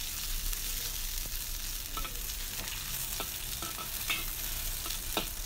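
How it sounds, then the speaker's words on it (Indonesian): Spices for Hong Kong-style seafood siomay stir-fried in a hot pan until fragrant: a steady close sizzle runs throughout, broken by scattered clicks and scrapes of the spatula, with no talking. "aku oseng dulu ya. Sampai bau harumnya keluar."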